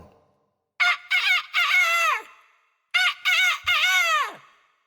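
A rooster crows twice, each a loud, clear cock-a-doodle-doo with stuttering opening notes and a long drawn-out final cry.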